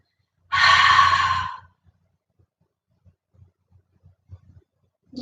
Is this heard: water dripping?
no